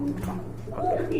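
A pair of Red Checker pigeons coos at a pigeon sale, with a low rolling coo rising near the end over a voice and background chatter.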